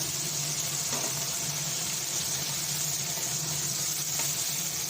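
Pressure-cooked mutton frying in a pan with onion and ginger-garlic paste, a steady close sizzle that runs unbroken without talk.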